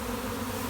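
A honeybee swarm gathering and settling into a cluster gives off a continuous, close, even buzz with no breaks or voices.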